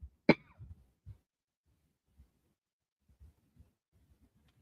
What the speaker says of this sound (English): excuse me, just coughing off through that